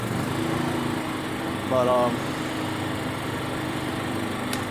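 A makeshift auxiliary power unit engine for a truck runs steadily, a loud constant small-engine drone close by, with a brief spoken word over it.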